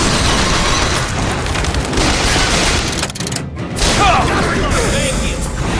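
A Bioshock Infinite firefight at Battleship Bay and Soldier Field brings dense, loud overlapping gunfire and booms that keep going nonstop with a brief dip near the middle, while shouting voices mix in.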